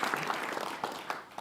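Applause from an audience at a university groundbreaking ceremony for a student-athlete performance center, a brief, soft, moderately distant wash of clapping that holds steady and then begins to taper.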